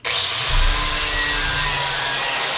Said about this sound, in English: I'm going to scrape off as much of this as possible